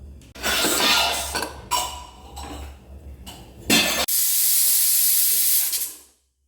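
Loud hissing bursts of steam from a pressure cooker whistle, several short jets followed by a long sustained blast that fades away, with faint clinks of cookware.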